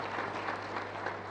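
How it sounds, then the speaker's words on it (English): Brief, steady applause from an audience at a corporate awards ceremony, many hands clapping together in a dense, even patter throughout. "Ladies and gentlemen, a round of applause."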